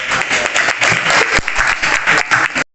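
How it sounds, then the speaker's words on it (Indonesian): A sixth-grade classroom bursts into loud, dense applause that lasts a couple of seconds and then cuts off sharply. "Oke, tepuk tangan."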